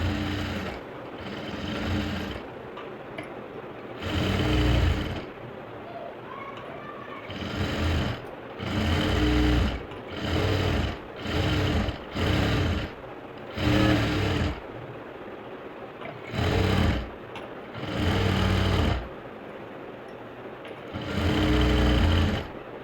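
A sewing machine stitches a blouse in repeated loud bursts of rapid mechanical clatter separated by short pauses, close and steady with no talk.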